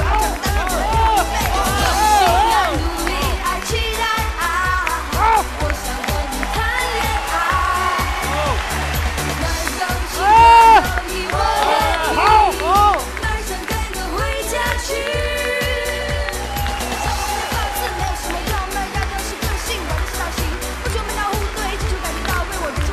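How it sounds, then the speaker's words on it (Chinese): Studio audience on a Chinese dating show breaks into sustained applause and cheering, a dense, loud crowd roar with music running underneath throughout, rising briefly in a louder surge midway. "掌声有请"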